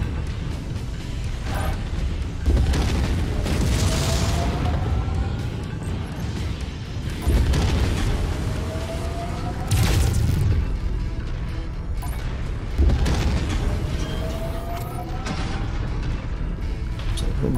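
Autocannon shells from a mech explode in the MechWarrior game: heavy booms land every few seconds over a constant rumble of battle, with descending whistling tones between the blasts.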